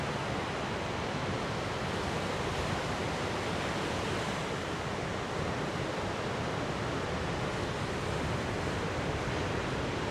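Ocean waves breaking at a surf beach break, heard as a constant, dense roar of rushing water and wind noise that stays loud and unbroken with no voices.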